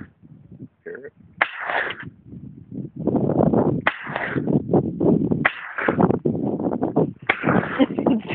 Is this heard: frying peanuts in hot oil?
no